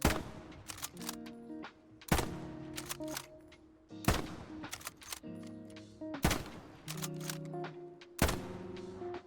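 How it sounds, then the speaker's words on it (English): Mosin Nagant bolt-action rifle firing in the video game Hell Let Loose: five sharp, loud shots about two seconds apart, each followed by a metallic bolt-cycling clatter. "First up, Mosin Nagant."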